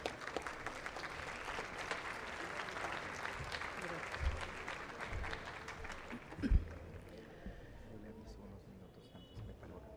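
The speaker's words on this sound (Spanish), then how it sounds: "Fuertes los aplausos para él." An audience at a lecture on women in Church teaching claps for a priest being introduced, a crowd of hands applauding at moderate distance that gradually thins out, with a few louder thumps and scattered crowd noise underneath.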